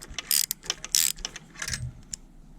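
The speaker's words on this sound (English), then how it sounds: "So what we want to do is tighten the nut just so it touches the spacer" A nut being tightened on the throttle rod of an iTroll M7.9.11 fit kit gives short, close metallic clicks and ratcheting ticks in uneven bursts, with quiet pauses between them.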